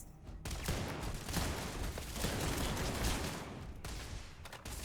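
Turrets firing in the space game Starfield, a dense continuous barrage of rapid gunfire that stays loud and steady throughout with no talking.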